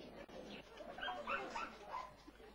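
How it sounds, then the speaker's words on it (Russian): A stray dog whimpers and gives soft yips at close range, faint and intermittent over a steady background hum. "Мы взяли к себе бродячую собаку"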